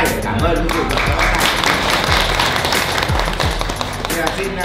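Wedding guests at a traditional Vietnamese ceremony in Bac Giang give a round of applause in thanks, a dense steady patter of many hands mixed with chatter and background music, fairly close and loud throughout.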